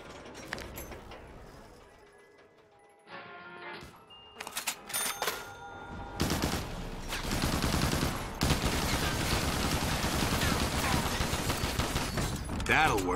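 Shotgun fire in Black Ops 3 Custom Zombies on the Scrapyard map: loud, sharp blasts and mechanical clatter come in bursts after a quieter stretch, mixed with busy game noise and a voice.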